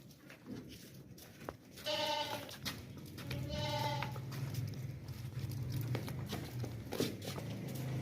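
Desi goats, including a plump, heavy sacrificial goat for the 2024 Qurbani, give two loud, drawn-out bleats a couple of seconds apart at close range, over faint shuffling and a low background rumble.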